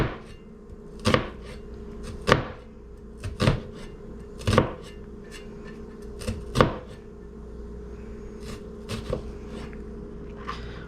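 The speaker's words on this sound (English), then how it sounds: "Okay, so notice that I've cut the onion horizontally. Now I'm going to do a couple vertical slits." Sharp knife strikes through an onion onto a cutting board, several distinct chops spaced irregularly, close and fairly loud over a low steady background hum.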